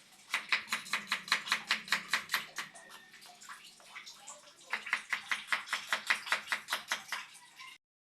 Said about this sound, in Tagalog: Kuya po, ayan, nagtatadtad na.